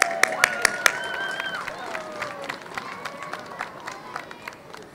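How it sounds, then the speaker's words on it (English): A crowd at an outdoor horse-drawn Christmas carriage parade claps, with scattered applause and a few sharp claps, moderately distant beneath a voice over a public address. "so let's give her a round of applause."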